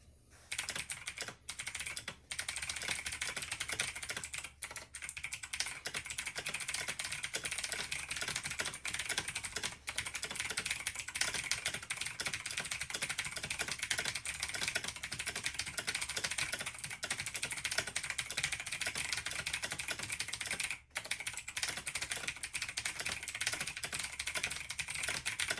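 Continuous fast typing rattles on a Razer Blackwidow Tournament Edition Chroma V2 mechanical keyboard, dense, close-miked clacking keystrokes with brief pauses, heard alone without voices.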